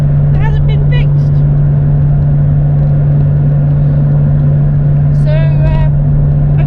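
Steady engine drone and road rumble inside a moving car on the drive from Gloucester to Kidderminster, with a constant low hum throughout and brief bits of nearby talk over it.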